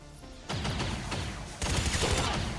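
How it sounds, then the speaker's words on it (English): Bursts of gunfire in the turn-based strategy game XCOM 2, two loud sustained volleys of rapid shots, the second heavier, close and with no talk. "I just shoot them. Shoot the captain."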